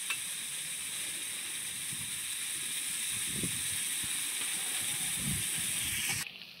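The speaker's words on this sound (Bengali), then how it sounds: "আলুটা বেশ কিছুক্ষণ চিংড়ি মাছের সঙ্গে ভাজা ভাজা করে নিয়ে" Potatoes frying with shrimp in a pan in an outdoor kitchen between two ponds, a steady hissing sizzle with occasional low bumps of stirring, ending abruptly.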